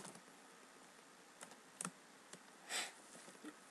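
Light keystrokes on a computer keyboard as a word is entered, a short burst of sparse separate taps with a few louder clacks, close and quiet in a still room.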